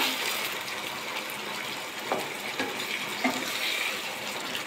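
Water, about a cup, is poured into a cooking pot of aubergine curry, giving a close, continuous splashing gush that stays steady the whole time with a few small bumps.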